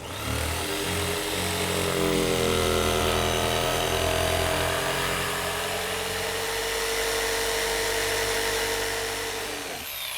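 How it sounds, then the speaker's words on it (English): Power jigsaw cutting an opening through a wooden porch deck, a loud, close, continuous buzzing saw whine with a wavering pitch as the blade works through the wood, stopping abruptly at the end. "Then we cut out the opening using a jigsaw."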